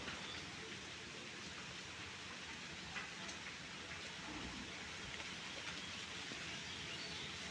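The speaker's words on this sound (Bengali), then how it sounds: "রোদ নাই, বৃষ্টি হচ্ছে" Steady rain falling outdoors during a rainy Eid-ul-Adha day, a continuous broadband hiss of even loudness with no breaks and no voices for the whole stretch.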